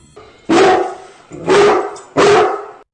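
A dog in the video game Free Fire barks three times in a steady, evenly spaced rhythm, loud and close, with nothing else heard.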